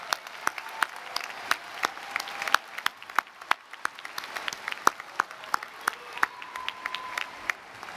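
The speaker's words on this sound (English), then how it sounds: "Give them a big round of applause" Commencement audience applauding honor society graduates, a steady spread of many hands clapping with sharp individual claps standing out, moderately loud and continuous throughout.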